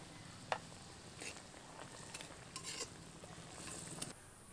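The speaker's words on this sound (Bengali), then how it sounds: "এবার মাছগুলো দিয়ে দেবো।" Fried parshe fish goes into a simmering gravy in a pan: a faint, continuous bubbling sizzle with a few soft clinks and stirring scrapes.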